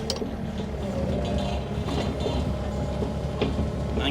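An excavator digging and tilling soil in a pumpkin patch, a continuous loud engine rumble with scraping and clanking from the bucket and occasional metallic knocks, steady throughout without voices.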